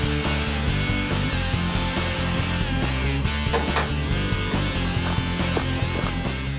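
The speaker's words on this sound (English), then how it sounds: "They're now cutting up a printing press for its shafts to use as axles" A steady rasping cut through a printing press for its shafts, rhythmic sawing and grinding strokes, close and loud over a background with a regular low pulsing tone, with no voices.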